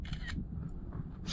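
The camera on a ZLL SG908 gimbal drone fires its shutter, giving a short mechanical click followed by a second brief snap a moment later, close and fairly faint.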